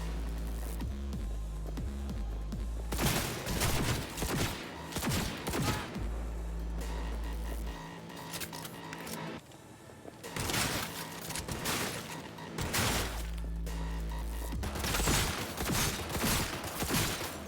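Rapid bursts of gunfire from Cyberpunk 2077 combat, loud and close, with repeated volleys separated by short lulls over game music and effects.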